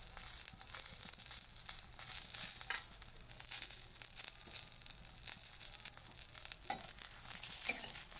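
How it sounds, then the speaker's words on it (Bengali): Singi fish roe frying in a pan, a steady close sizzle with occasional stirring scrapes and pops throughout, no voices. "শিঙি মাছের ডিম ভাজা"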